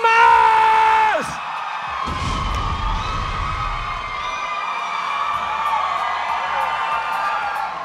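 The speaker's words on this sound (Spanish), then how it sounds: "Den un fuerte aplauso para Pepe Problemas." Audience at a live comedy show cheering and whooping loudly after a shouted announcement, with crowd noise and scattered yells sustained for several seconds.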